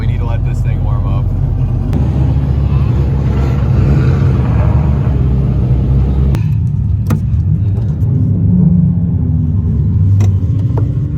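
A race car engine idling on a cold start with oil pressure running high, a loud steady low rumble throughout while a person talks over it.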